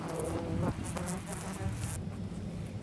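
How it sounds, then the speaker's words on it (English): Wasps buzz from the core of a disturbed ground nest being dug out, a faint, continuous, high-pitched drone close by with rustling and scraping mixed in. "Once you hear the high-pitched buzzing, you've hit the core of the nest."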